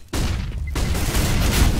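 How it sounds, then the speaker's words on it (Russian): A bomb detonates in Counter-Strike on the Overpass map, a sudden loud blast that rolls into a sustained, dense roar of explosion and gunfire-like rumble. "Бомба взрывается."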